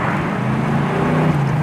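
A 1965 Ford Mustang convertible's engine runs in a steady, full low rumble, close and continuous, with no voices.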